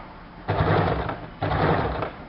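A sewing machine stitches the collar neckline of a kurti in two bursts of rapid whirring, each about a second long, separated by a short pause; close and fairly loud, no talking.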